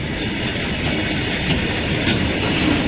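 The last wagons of a long freight train roll past a level crossing nearby in a steady, loud rumble with rhythmic clatter of wheels on track, continuous with no voices.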